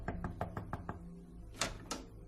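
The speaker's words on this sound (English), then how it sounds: "walked up the driveway, and knocked on the front door." Knuckles rap on a front door in a quick run of about six knocks, then two sharper, louder knocks after a short pause, close and distinct.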